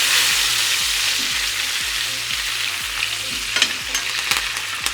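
Beef fillet steaks sizzle steadily in a pan of melted butter with thyme while being basted, a loud continuous frying hiss broken by regular spoon scrapes and spattering pops.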